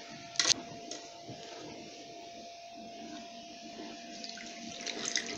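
Water runs steadily into an old Arçelik washing machine to rinse away stuck Persil detergent residue, a constant close hiss of flow with a brief louder splash near the start and no talking.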